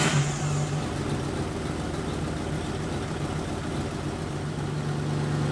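A V8-swapped Toyota pickup truck starts up in the snow, a brief whirring crank that catches into a steady, loud, close idle rumble, with no one speaking.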